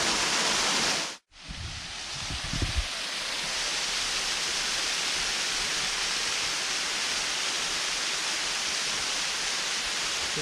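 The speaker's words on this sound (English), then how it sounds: "just stopping at this cute little waterfall here" A small waterfall curving through rock at Cueva de los Guacharos in Jardin, Colombia gives a steady, close rushing roar that cuts out for a moment near the start, then holds on evenly.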